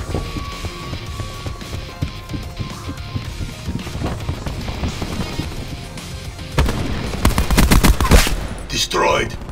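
Rapid bursts of TITAN light machine gun fire in Call of Duty Black Ops 4 multiplayer team deathmatch, loud and sustained with crashing impacts, building to a denser volley near the end.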